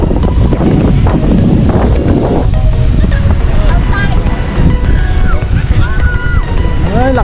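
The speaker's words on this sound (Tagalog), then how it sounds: "Ay, lakas ng hangin." Strong wind buffets the microphone at a beach in Dagupan, Pangasinan, a loud constant roar mixed with surf, while people talk and laugh over it.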